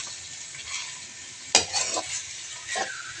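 Chicken pastel being stirred in a sizzling pan, with a soft scrape of a utensil against the pot standing out over steady frying hiss, no talk.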